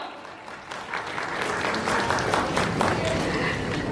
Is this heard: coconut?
no